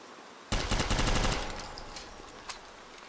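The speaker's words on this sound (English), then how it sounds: "Let's lure him with our celebratory gunfire into the sky." A rapid burst of automatic gunfire fired into the sky in the game Interstellar Marines rattles for about a second, then trails off into a lingering echo and quieter background.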